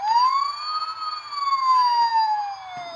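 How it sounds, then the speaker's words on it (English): A Transformers Fire Convoy toy fire truck sounds its electronic siren, a single loud wailing tone that rises and then slowly falls, close and clear with no one talking. "And you just got the siren."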